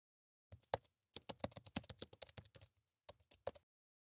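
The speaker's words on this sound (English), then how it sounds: "Then, type in the solution name you'd like to use." Quick, crisp keystrokes on a computer keyboard, tapped in bursts at close range with brief pauses between, heard alone against a silent background.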